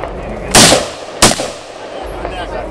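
A semi-automatic firearm fires two sharp, loud shots about a second apart, each cracking and then echoing away outdoors.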